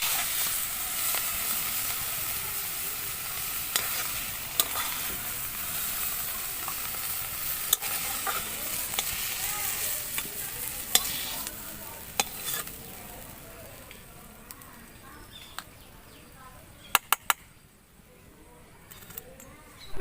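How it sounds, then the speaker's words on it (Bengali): Leafy greens fry and wilt in a kadai while a spatula stirs them, an ongoing sizzle broken by sharp scraping clicks that grows quieter near the end. "তো শাকটা আমাদের ভাজা হয়ে গিয়েছে, তুলে দেবো"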